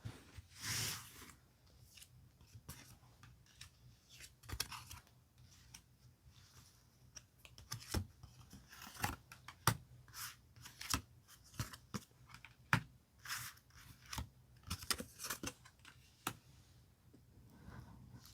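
Tarot cards are handled quietly up close, with faint, scattered clicks and soft flicks as the deck is shuffled and five cards are picked, no voices.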